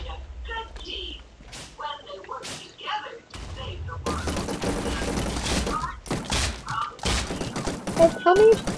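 Minigun firing in a Minecraft war game, a dense rapid stream of shots starting midway and continuing with brief gaps, mixed with thuds and speech.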